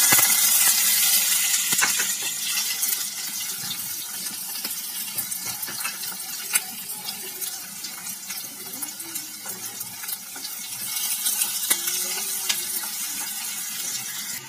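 Chopped onions and cumin seeds dropped into hot oil in a home kitchen pan, giving a steady broad sizzle and crackle that stays fairly even throughout, with no talking.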